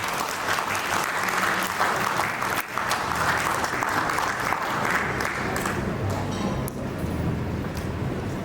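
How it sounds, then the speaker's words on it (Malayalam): An audience claps steadily at an engagement ceremony, dense, sustained applause filling the space from start to finish with crowd murmur underneath. "ഒന്ന് കൈയടിച്ച് നിൽക്കുക"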